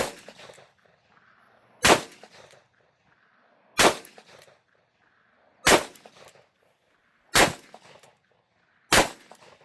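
Six evenly spaced pistol shots at an outdoor shooting range, each a sharp loud crack about two seconds apart with a short decaying tail and near silence between.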